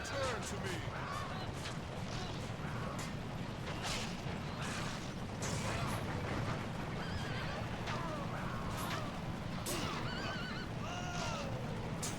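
Horses neigh and whinny repeatedly over galloping hoofbeats and a busy background of clashes in the chariot racing video game Circus Maximus: Chariot Wars, with some talking mixed in, fairly faint overall.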